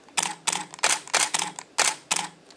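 A Canon EOS 5D Mark III shoots a rapid burst: about seven crisp, evenly spaced shutter and mirror clacks in quick rhythm, close and clear with nothing else heard.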